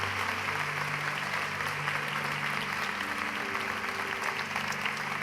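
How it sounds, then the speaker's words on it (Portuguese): Congregation applauding during a church service, steady dense clapping throughout with cheering voices mixed in and a faint sustained tone underneath. "dá um aplauso ao Senhor."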